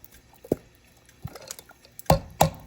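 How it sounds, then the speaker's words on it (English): Thick canned cream of mushroom soup slides from the can into a pan of meatballs, giving a few scattered wet plops and soft squishes, then two louder glopping splats near the end, with no talking. "then we're going to take a can of cream of mushroom and pour it in there"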